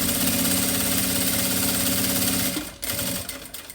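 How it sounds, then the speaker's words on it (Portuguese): Sewing machine running steadily as it stitches a seam along a small strap, a loud continuous mechanical hum and rapid needle chatter that cuts off after a few seconds, leaving a few quieter clicks. "Vou vir aqui na máquina e vou passar uma costura aqui em cima dessa alça menorzinha."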